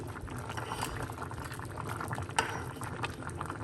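Brown rice and peas for Christmas dinner bubble in a pot with a close, continuous simmer, one brief sharper pop near the end, and no voices.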